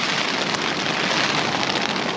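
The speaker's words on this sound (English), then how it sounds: "I'm going to end up just falling asleep to the sound of this rain." Rain drumming on a tent while wild camping, a dense continuous patter that is loud and very close, steady throughout with no voices.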